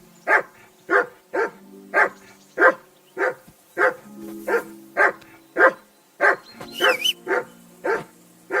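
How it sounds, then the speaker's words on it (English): A dog in Kingdom Come Deliverance 2 barks repeatedly and loudly, about a dozen sharp barks in a steady rhythm, close and alone without talk, with a few higher yips near the end. "Whistle at that mutt of yours to stop barking!"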